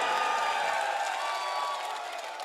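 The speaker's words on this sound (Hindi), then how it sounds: "ताली बजा दो एक बार।" A large crowd at a mushaira and kavi sammelan in Nehru Stadium, Roorkee, claps and cheers in a broad, sustained wash of applause that fades slightly toward the end, with no voices speaking over it.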